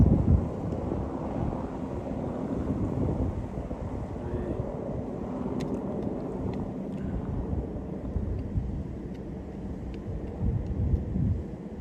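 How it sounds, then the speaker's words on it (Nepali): A helicopter takes off in the Langtang valley, its steady low rotor and engine rumble filling the scene continuously at moderate distance, buffeted by gusts of wind across the microphone. "लाङटाङमा हेलिकप्टर उडेर ल्यान्ड गरेर अहिले उडिरहेको छ।"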